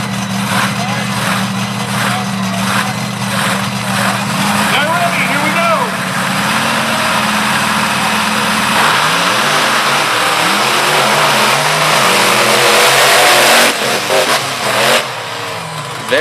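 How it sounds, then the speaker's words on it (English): Drag race between the Illuminator and the Virginia Giant at Fishersville, Virginia: a steady, loud roar of high-revving engines that swells and shifts as the cars run, with a voice talking over it. "That'll be Jay Snyder out of Bethesda, Maryland in the Illuminator, taking on Diehl Wilson out of Winchester, Virginia in the Virginia Giant."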